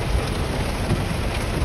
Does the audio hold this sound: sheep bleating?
no